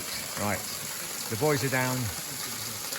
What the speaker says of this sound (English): Right, so that's Maspie Den waterfall.